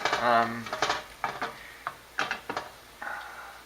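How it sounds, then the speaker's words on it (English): Salsa and salami are stirred in a pan with a utensil, giving a series of scraping, tapping strokes against the metal and a faint sizzle, with a voice talking intermittently. "So I put the salsa in and the salami in, and I'm mixing it up."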